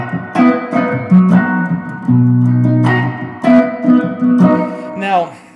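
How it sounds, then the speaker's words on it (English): An acoustic-toned guitar strums and picks a suspended chord, several short ringing strokes and plucked notes in a loose rhythm, close and clear with no one talking over it. "And you can get that springtime sound like this"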